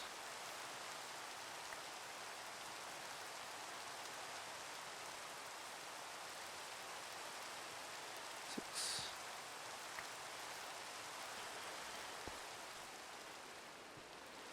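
Steady rain falls in Minecraft, a constant hiss of drops with a few small clicks and one brief brighter splash, and no voices.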